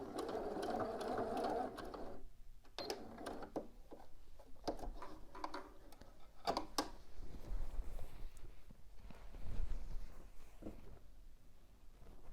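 Home sewing machine running back and forth while back stitching on a bodice, bursts of steady mechanical whirring broken by brief pauses and clicks, close and clear with no talking.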